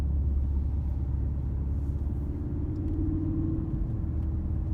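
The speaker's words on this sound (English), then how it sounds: "it gives you a nice rumble to it, to where you know that you're not driving your standard Ford Focus" A Ford Focus RS rumbles steadily while driving in workday traffic, a continuous low engine drone heard close from inside the car with no talk.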